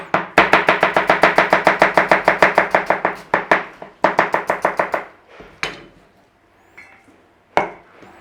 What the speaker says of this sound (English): So again, you have to slice your onions.